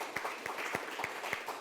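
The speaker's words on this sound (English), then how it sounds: "Let's clap that up." Sparse, rhythmic clapping at a company culture and sales talk, with a few separate claps landing about every third of a second across a steady room background, and no voices.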